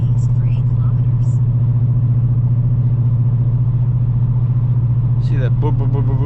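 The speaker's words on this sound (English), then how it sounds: "See that boo boo boo boo boo sound? That's what happens because I'm at 1800 RPM." Inside a 2018 Dodge Challenger R/T 392 cruising at 1800 RPM, the engine gives a loud, steady, pulsing low drone throughout, with a voice rising over it near the end.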